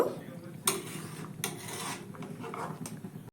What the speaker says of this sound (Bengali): এবার চিনিটা দেওয়ার পর আমি আবার একবার একটু ভালো করে ফুটিয়ে নেব